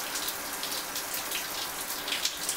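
Steady hurricane rain pours down in a dense, hissing wash with scattered heavier drops spattering, no voices over it.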